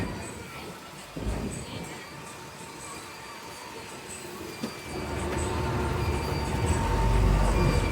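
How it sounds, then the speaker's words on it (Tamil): A brand-new Tata-chassis ACGL fast passenger bus pulls away on its run from Coimbatore to Kayamkulam. Steady road and engine rumble fills the cabin and grows louder and deeper through the second half as the bus gathers speed. "புது டாட்டா சேசஸில் அப்படியே ட்ராவலை ஸ்டார்ட் பண்ணியாச்சு."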